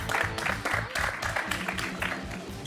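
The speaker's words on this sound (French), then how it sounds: "Et sous un autre tonnerre d'applaudissements" A studio audience on a French television talk-show set applauds in waves, the clapping steady but uneven, with a faint voice or two mixed into the crowd.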